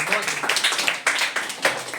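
Schoolchildren in a classroom clap for a pupil after a correct answer in a geography quiz, an uneven patter of many hands with a few sharper claps standing out, fairly close.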